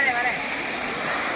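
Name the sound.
waterfall at Guna Cave, Devil's Kitchen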